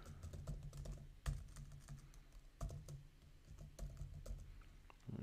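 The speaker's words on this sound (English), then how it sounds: "I just click that, type that in and click tab" Keys tapped on a computer keyboard while entering a menu modifier in event software, a quiet, fast, irregular patter of clicks with a few sharper, louder keystrokes standing out.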